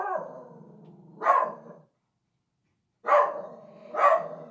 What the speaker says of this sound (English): This dog is too much.